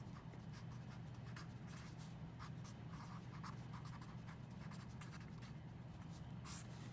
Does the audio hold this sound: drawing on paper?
yes